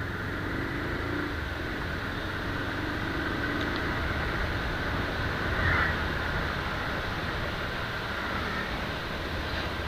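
A Bajaj Pulsar 220 BS6 motorcycle is ridden along a road at a steady, even pace, its engine drone low and constant beneath a wash of wind noise.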